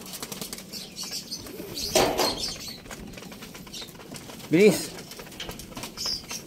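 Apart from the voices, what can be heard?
racing pigeon arriving, wings flapping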